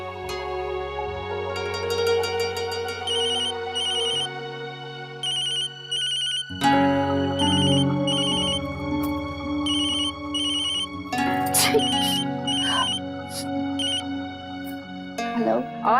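A telephone ringtone plays as a melodic electronic tune over a scene in an Indian TV serial, repeating in bursts for several seconds beneath background music and other household sound.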